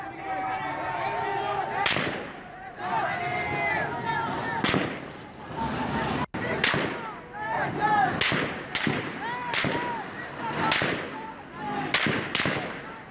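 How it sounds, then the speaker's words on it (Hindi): Gunfire from security forces at protesters in Mashhad, Iran: a rapid, irregular series of sharp cracking shots, some close and loud, with shouting voices in between. "मशहद में सुरक्षा कर्मी ने आम लोगों पर बरसाई गोलियां"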